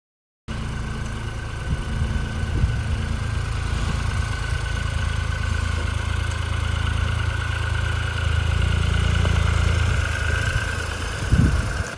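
A 2020 Ford Escape on a test drive after suspension repair, its engine a steady rumbling drone with road and cabin noise, rising slightly near the end as it speeds up, close and continuous with no talking.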